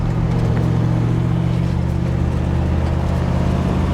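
A 1967 Chevrolet Impala SS with a 396 big-block V8 and four-speed manual drives along, its engine giving a loud, steady low rumble that holds without a break and with no talk over it.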